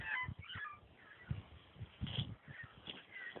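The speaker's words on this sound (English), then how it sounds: "I don't know if you guys ever seen cats chattering" A little black cat chatters at a bird in rapid, stuttering bursts of clicking and soft chirps. The sounds come close and fairly quiet, in short irregular clusters with brief pauses.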